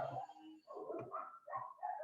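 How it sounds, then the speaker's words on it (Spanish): Dogs bark near a building site where concrete work goes on, four or five short, fairly faint barks in an uneven rhythm with brief pauses between them. "también el sonido de los perros"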